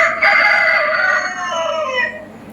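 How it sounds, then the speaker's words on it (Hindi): A rooster crows before dawn at about four in the morning: one long, loud, drawn-out crow close by that fades toward the end, with no voices over it. "मुर्गे अजान दे रहे हैं कि सुबह हो गई है"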